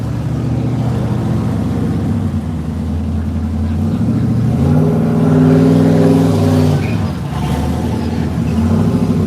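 A turbocharged 6-liter LS V8 with an 80 mm turbo rumbles at a car show, its deep idle swelling into a rev midway before settling back, loud and close.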